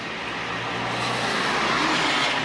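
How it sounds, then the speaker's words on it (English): Cars passing on a wet road in the rain, a continuous loud hiss of tyres on water that swells slightly as vehicles go by, steady and close with no voices. "You hear that noise of the cars passing"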